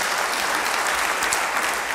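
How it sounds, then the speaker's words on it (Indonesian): A church congregation applauds during a worship service, a dense, steady burst of clapping that fills the room. "Beri tepuk tangan bagi Dia."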